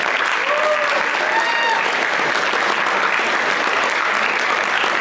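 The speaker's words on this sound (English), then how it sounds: "Let's give them a huge round of applause" A crowd at a leadership summit claps loudly and steadily throughout, a dense continuous wash of applause with a few cheers riding on top.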